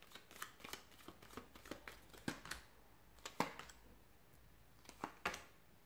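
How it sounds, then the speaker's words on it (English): Tarot cards are shuffled by hand close up, a series of quiet crisp riffling bursts and soft slaps in an irregular rhythm, with no talk over them. "So let's go ahead and give the cards a shuffle"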